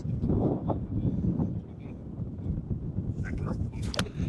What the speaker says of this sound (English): Yeah, the wind's gusting good.